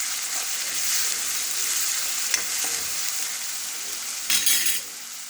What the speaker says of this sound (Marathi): लसूण, आले, कोथिंबीर, खोबरे याची पेस्ट, एक बारीक चिरलेला कांदा छान हलवून परतून घ्यायचे.